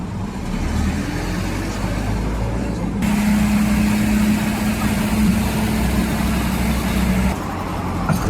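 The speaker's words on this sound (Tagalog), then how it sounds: "Traffic na naman." Steady road traffic on EDSA in Manila, a continuous rumble of cars and buses heard from inside a vehicle, with an engine drone and a sustained low hum running through most of it.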